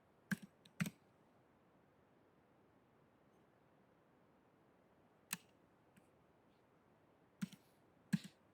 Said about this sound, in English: we're typing in this equation right there